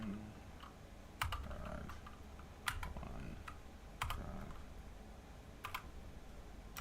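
Quiet typing on a computer keyboard, with soft key taps broken up by a few sharper, louder strokes at regular intervals, all fairly close and without speech.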